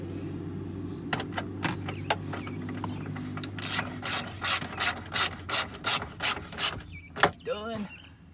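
Ratchet clicking while bolts are tightened on a Jeep during a turn signal repair, with a run of loud rapid ratcheting strokes in bursts, near and clear, over a low mechanical hum.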